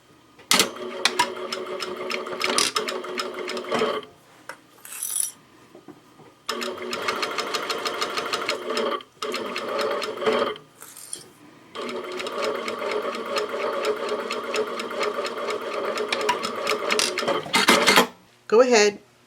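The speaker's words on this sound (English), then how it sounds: "I'm sewing that second accent piece on now." A sewing machine stitches an accent piece onto a travel-size tissue case holder with a 1/4 inch seam and 2.5 inch stitch length, running in several loud close bursts with short pauses and quick backstitch stops.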